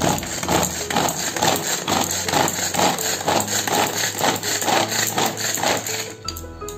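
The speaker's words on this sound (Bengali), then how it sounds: "এবার কিন্তু সুন্দর করে আমরা চপ করে নেবো এগুলো।" Steady rhythmic knife chopping of ingredients, including palm fruit kernels, for payesh on a board, close and loud with regular strokes, over a constant background hum, stopping near the end.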